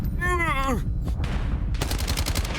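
A short groaning voice is followed by rapid bursts of gunfire in a Call of Duty game, ending in a quick rhythmic string of shots.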